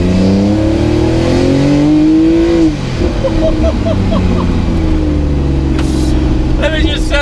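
Loud, close exhaust of a 780 hp Fenyr Supersport with a 3.8-litre twin-turbo engine, revving up, dropping a couple of gears and rising again in sustained roars with turbo chatter near the end, while someone talks over it.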